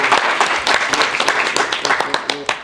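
A studio audience on a couch-style talk show claps and cheers loudly, the applause rolling continuously under an enthusiastic host's voice.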